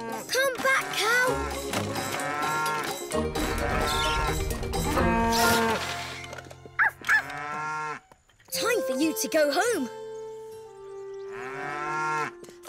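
A cartoon cow moos in several long, loud, wavering calls separated by short pauses, with a character's voice speaking briefly between them over light background music.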